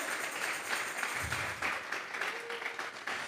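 A church congregation claps together during a worship service, a steady, dense wash of applause that continues without a break.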